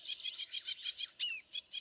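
A sedge warbler sings from reeds on a marsh, a close, clear run of rapid repeated piping notes in a steady rhythm, broken by a short squeaky mimicked phrase of coot chicks, with no talk over it.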